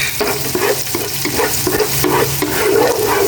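Garlic and onion sautéing in hot cooking oil, a continuous loud sizzle with rhythmic scraping strokes of stirring, no talking.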